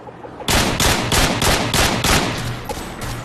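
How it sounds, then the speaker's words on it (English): Rapid bursts of automatic gunfire from a first-person shooter match near a bomb site, six or seven loud close shots in a fast steady rhythm, then fading, with no talk. "He's trying to shoot me."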